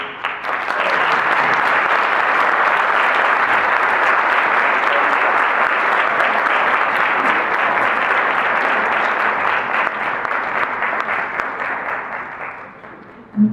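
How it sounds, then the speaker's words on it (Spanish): Sustained, steady applause from a conference audience at a dermatology talk, rising quickly, holding evenly for over ten seconds, then fading out abruptly. "yo les pido un aplauso"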